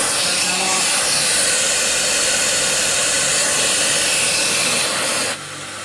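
CamVac CGV286 workshop dust extractor running on one motor, a loud steady broadband whoosh that holds constant and then drops sharply just before the end.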